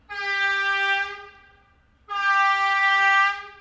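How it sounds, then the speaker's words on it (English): A train horn sounds from a train passing nearby, two long loud tonal blasts with a short gap between them, the first fading out, heard alone without talk. "I can't wait for the day that I don't live by a train."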